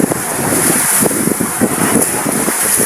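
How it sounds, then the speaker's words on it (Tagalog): Strong wind roars steadily against the microphone on a fishing boat at sea, a constant buffeting rush with a hiss of open water and no voices. "lakas ng hangin guys"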